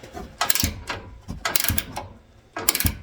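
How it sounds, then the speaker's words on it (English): A 5/8 ratchet wrench works the strut nuts on a 2024 Ford Ranger XLT 2.7 during a leveling kit install, giving three close bursts of rapid clicking ratchet strokes with short pauses between them. "That's probably a 5/8 ratchet wrench."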